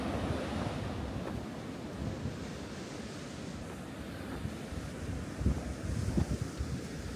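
Strong snowstorm wind roars across a road construction site, a constant broadband rush with gusty buffeting against the microphone. It is loud and continuous throughout, with no voices.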